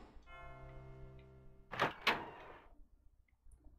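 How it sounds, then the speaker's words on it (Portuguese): A door opens in the PlayStation 1 game Resident Evil 2, heard as a sustained tonal hum followed by two sharp mechanical clunks close together, then a brief fading rattle, with no talk over it. "abriu essa porta aqui"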